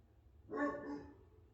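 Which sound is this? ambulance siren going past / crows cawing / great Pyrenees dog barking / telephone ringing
great Pyrenees dog barking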